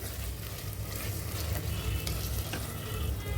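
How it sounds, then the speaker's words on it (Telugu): Boneless mutton for haleem frying in a pan while being stirred, a steady dense sizzle with scraping stir strokes running throughout, close and fairly loud, no voices. "ఇప్పుడు ఒక 1 మినిట్ 2 మినిట్స్ అలా ఫ్రై చేసుకోవాలి."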